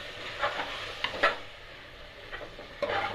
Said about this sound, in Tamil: இது லைட்டாக மிக்ஸ் பண்ணிக்கிட்டே இருங்க, இல்லைன்னா அடி பிடிக்கும்.